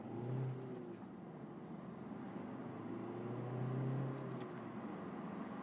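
A car pulls away in first gear under normal, gentle driving, its engine hum rising in pitch twice as it accelerates, a steady moderate in-cabin drone without talk.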